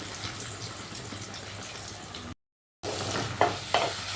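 Tomato paste sizzles and fries in hot oil in a pan as it is stirred, a steady close crackle with a brief gap, then sharper scraping clicks of the spoon in the final seconds.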